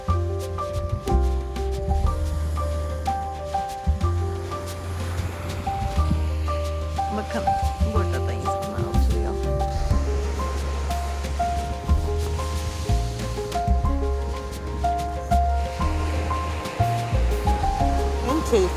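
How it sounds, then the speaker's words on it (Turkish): Sea waves wash onto a beach in Barcelona at night under a full moon, a steady rushing surf that swells in repeated surges with a big wave among them, while music plays over it. "Oh, çok büyük bir dalga."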